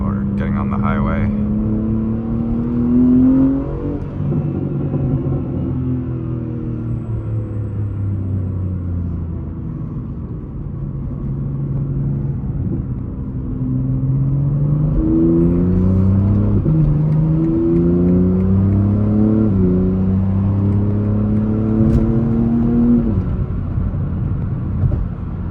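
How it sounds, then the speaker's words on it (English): BMW G80 M3 engine heard from inside the car while merging onto a highway, with repeated rising rev sweeps through the gears, a steady rumbling drone between pulls and a stronger run of upshifts later; nobody talks. "Give you guys some revs while we're getting on the highway."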